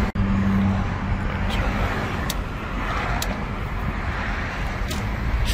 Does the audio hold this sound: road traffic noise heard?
yes